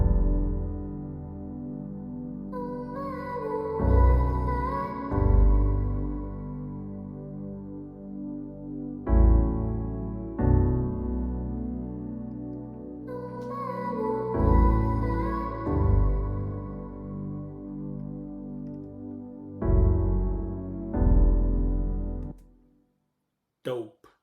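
Zouk-style beat with grand piano chords, a soft pad, processed vocal and brass stabs, playing in phrases with rhythmic bass hits and swells, ending with a brief fade and silence.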